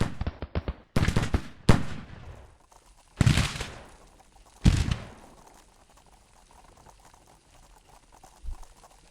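Musket volleys crack out in a Grand Tactician Civil War battle, several sharp bursts, some rippling in quick succession, spaced a second or two apart with decaying rumble between, no voices.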